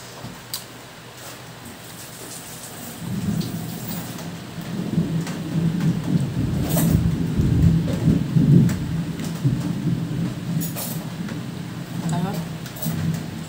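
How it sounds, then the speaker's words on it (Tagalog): Steady rain falls in the background, softly at first and then heavier, with a low rumble and speech-like murmur mixed in. "Pero umuulan-ulan na."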